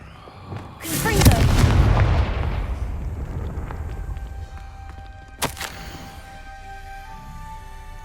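Confringo fire spell explosions in the Hogwarts Legacy video game: a loud, close blast bursts out and rumbles away over several seconds, then a second, sharper crack follows before the sound fades to a quiet hum.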